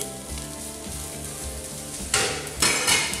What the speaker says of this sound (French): Je mets mes fans de carottes, les fans de carottes dans l'huile chaude